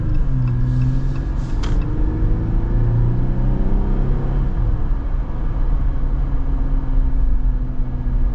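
A new AEV Wrangler Classic Jeep accelerating, its engine a steady, loud low rumble that climbs slightly in pitch over several seconds, close to the cabin.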